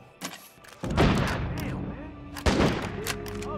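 Gunfire from a large weapon in the zombie survival video game State of Decay 2, heard as a few loud broadband bursts with decaying tails, one near the start and heavier blasts around one and two and a half seconds.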